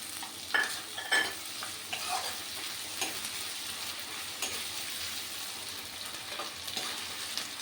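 Ginger, garlic and a few black peppercorns fry in a pan, giving a quiet, steady sizzle broken by scattered crackles and stirring scrapes, with no talking.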